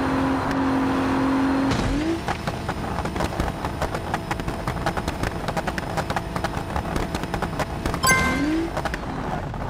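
A simulated Audi TT in the BeamNG Drive game roars with a steady engine whine, then bursts into a clattering run of rapid rattling impacts, with a pitch sweep as it lands near the end.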